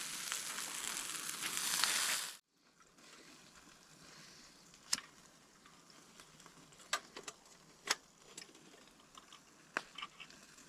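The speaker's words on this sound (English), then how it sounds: "Bacon, open flames." Bacon sizzles over open flames at a campsite, a loud dense crackling hiss at first that drops away into quieter frying with scattered sharp pops and ticks.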